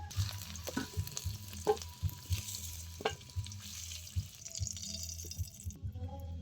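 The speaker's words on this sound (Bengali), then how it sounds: "অল্প নুন হলুদ দিয়ে আলুটা খুব ভালো করে লাল লাল করে ভেজে নিয়েছি" Potatoes fry in mustard oil with salt and turmeric, a close, steady sizzle with soft stirring scrapes and occasional clinks, fading to quiet at the end.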